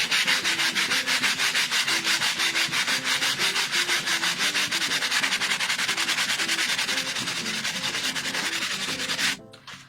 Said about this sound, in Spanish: voy a coger lija y voy a pasarla por la superficie para quitar pues todas estas barbitas